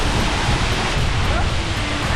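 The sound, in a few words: strong wind at a waterfall viewpoint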